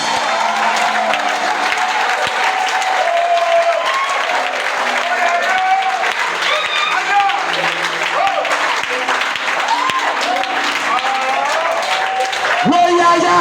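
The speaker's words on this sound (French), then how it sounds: "Est-ce qu'on peut acclamer l'autre Yaya?" A church congregation claps and cheers steadily throughout, a dense, loud wash of applause with voices and shouts mixed in, swelling slightly at the end.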